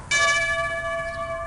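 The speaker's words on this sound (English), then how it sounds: "That sound you heard was the Liberty Bell cracking in Philadelphia." A single bell strike rings out suddenly in a video game effect of the Liberty Bell cracking, its bright metallic overtones hanging and slowly decaying with no other sound around it.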